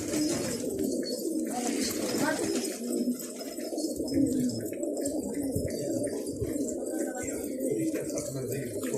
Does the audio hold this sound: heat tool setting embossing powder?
no